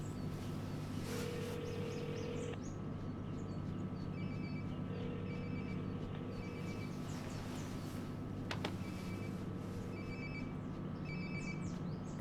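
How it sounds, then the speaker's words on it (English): A phone rings repeatedly in short electronic bursts from a room in Life is Strange: Before the Storm, heard alone at moderate level over a steady ambient hum. "Sounds like my phone is definitely nearby."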